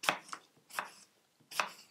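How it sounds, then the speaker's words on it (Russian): A knife chops through an apple on a cutting board for a salad, giving three or four crisp, close knocks with short pauses between strokes. "Теперь мы порежем яблочко."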